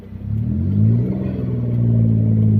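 A car engine held at half throttle, a steady low rumbling drone that rises slightly in pitch and loudness, close and continuous with no talk.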